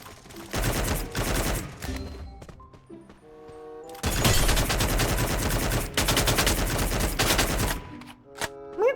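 Loud bursts of rapid automatic gunfire in the shooter game Free Fire, two long volleys of tightly spaced shots with a brief gap between, then a few scattered shots.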